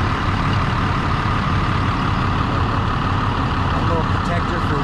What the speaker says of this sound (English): you can hear the engine run